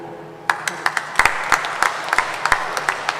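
A church congregation applauds during a Kikuyu-language Sunday service at PCEA Thika Town Church, with claps starting after a short pause and then landing in sparse, irregular, fairly close bursts.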